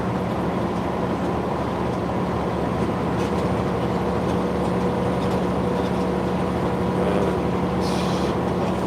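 Inside a truck cab while driving: a continuous, loud low rumble of engine and road noise that holds steady throughout, with no one talking.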